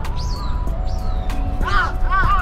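Crows caw in several short, harsh calls over steady crowd and traffic noise at Tennoji Zoo or near Osaka Castle in Osaka, Japan, with a voice speaking faintly in the background.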